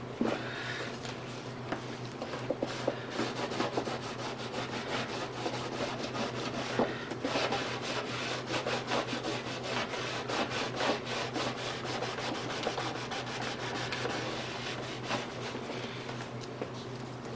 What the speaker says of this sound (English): Always have to do some sanding.